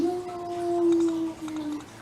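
A dog lets out a drawn-out, wavering whine that rises into a soft howl, close by and fairly steady for a couple of seconds.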